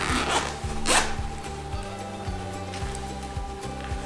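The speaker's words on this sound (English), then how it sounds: "open up the zipper." A zipper being pulled open on a bag in a series of repeated short rasping strokes, close up, with a brief rustle near the start.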